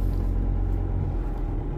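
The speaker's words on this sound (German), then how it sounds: "ist der 5-Zylinder-Sound" A deep, steady five-cylinder Volkswagen T5 van engine rumble idles close by, low and even throughout, with no voices.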